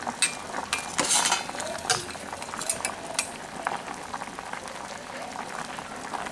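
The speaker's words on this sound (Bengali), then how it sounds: "প্রায় সাত থেকে আট মিনিট হয়ে গেছে এটা ফুটছে" Potato, pointed gourd and jackfruit pieces boil in a covered pot of water, heard as continuous bubbling with several light clatters of a lid or spoon, close by.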